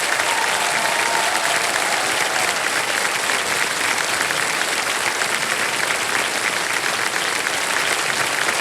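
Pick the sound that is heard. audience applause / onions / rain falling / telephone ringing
audience applause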